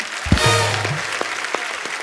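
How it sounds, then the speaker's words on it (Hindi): A studio audience of a Hindi comedy talk show applauds for Priyanka, steady clapping over a brief musical sting. "प्रियंका के लिए जोरदार तालियां"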